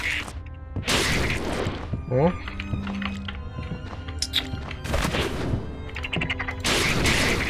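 Explosive machine enemy attacks in the video game Bloodstained: Ritual of the Night, with repeated heavy blasts, crashes, metallic whacks and gunfire-like bursts, while someone talks over the game sounds.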